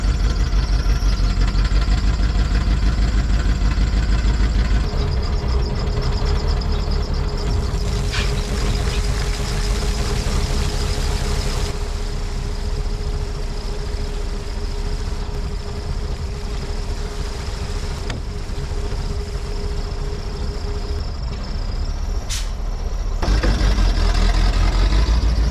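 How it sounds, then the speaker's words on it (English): A 1988 GMC C7000 dump truck engine cranks and fires, then settles into a steady, loud diesel idle close by, with a brief change in tone near the end. "here you can see a typical start for this engine. It smokes a lot for a couple of minutes"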